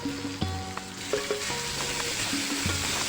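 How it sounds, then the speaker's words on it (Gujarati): Chopped onion, carrot, capsicum, spring onion and cabbage sauté in a pan for Manchurian: a close, continuous hissing sizzle with a few light clinks of a utensil against the pan. "બધું આપણે ઝીણું સમારેલું છે તે બધું એડ કરી દઈએ। બધું આપણે સાતળી લઈશું બરાબર।"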